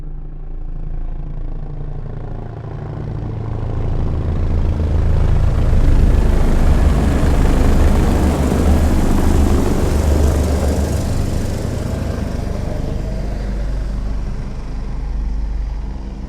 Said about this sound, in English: helicopters will slowly creep up from the back of the theater. Close your eyes and feel them fly overhead